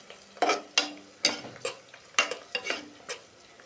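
Fried onions with turmeric stirred in a pan, a spatula scraping in about eight sharp strokes over a light, steady sizzle, close and fairly loud with no talking.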